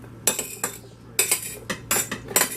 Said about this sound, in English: Going to add in the 2 chopped potatoes.